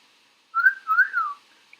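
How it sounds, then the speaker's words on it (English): A person whistles a close, clear wolf whistle: a quick rising note followed by a longer swooping fall, heard alone in a quiet room. "Wolf whistles."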